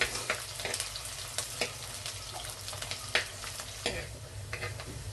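Curry leaves and other ingredients for a spicy red fish curry stirred in a hot pan, a steady sizzle under repeated scraping strokes of the spoon, close and moderately loud with no talking.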